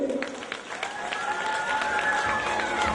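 Audience applause greeting contestants walking onto a pageant stage, a moderate wash of clapping from the hall with music or a tonal hum running underneath.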